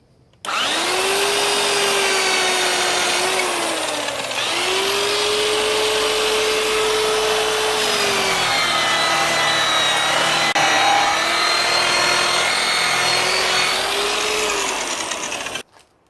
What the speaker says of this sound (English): We're going to use the green chrome with the loose leaf calico type polishing wheel